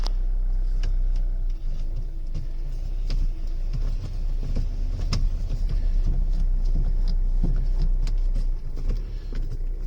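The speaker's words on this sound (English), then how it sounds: "start the car." A Kia Venga's engine idles close by in neutral after a clutch repair, a steady low rumble with faint ticks and knocks over it and no talking.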